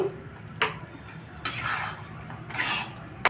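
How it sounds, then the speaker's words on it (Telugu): Cashew nuts being stirred into sugar syrup in a pan with the stove off, a spoon clanking and scraping against the metal in several distinct bursts between quieter gaps. "పాకమంతా జీడిపప్పులు పట్టేలాగా ఇలాగా కలిపేసేయండి"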